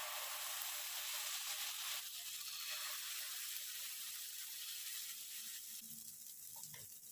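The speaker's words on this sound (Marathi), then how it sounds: "तवा आता तापलेला आहे तर सुरुवातीला मी एक छोटंसं काढून बघते धिरडं" Steady, bright sizzling of barnyard millet batter for a crepe on a hot griddle, continuous and close, with a few faint clinks near the end.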